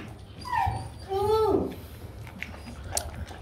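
A Rottweiler puppy, two to five months old, lets out two thin whining whimpers at feeding time indoors, then quiet rustling and a few small clicks follow against low background noise.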